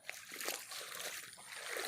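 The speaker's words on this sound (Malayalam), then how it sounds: "അപ്പം ഞങ്ങളിത് വെള്ളത്തിലേക്ക് ഇറങ്ങുവാണ്." Water sloshes and splashes as people wade from a road into flood water, a steady close churning with small splatters throughout.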